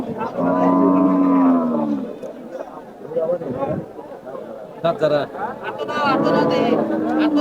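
A thin cow moos loudly twice, long drawn-out lows near at hand, with people chattering in the background between calls at a cattle market.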